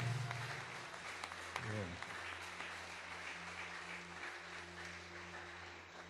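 Church congregation applauding during a French-language service, a soft wash of clapping mixed with voices speaking over it, fairly distant and low.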